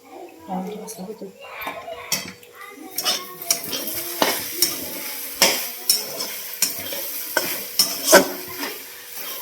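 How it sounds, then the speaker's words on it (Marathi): Okra being tempered in a pan, with sizzling under repeated sharp metallic clanks of a spatula stirring against the pan, rhythmic and close, and some talk in the background. "आता भेंडीला फोडणी देऊन घेते"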